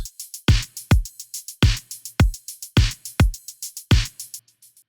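A drum groove with punchy kicks and snappy hits under a steady ticking of hi-hats and ride, repeating in a tight loop, close and fairly loud.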